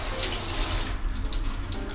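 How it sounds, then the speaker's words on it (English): Water gushing steadily from a cruise cabin bathroom tap into the sink, a loud close hiss and splash that stays constant throughout. "Okay, so I'm going to try to turn the water on."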